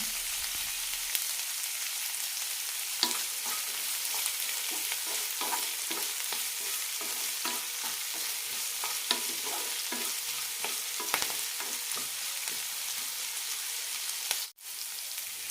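Flattened rice upma base in a pan, with onions being sautéed and stirred with salt added. A steady, moderate sizzle runs under repeated scraping strokes of the spoon throughout.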